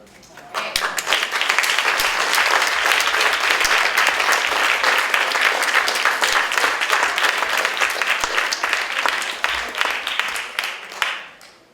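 Sustained audience applause at an academic policy colloquium follows the panel presentations: dense, steady clapping from a roomful of people that swells quickly, holds for about ten seconds and then tapers off.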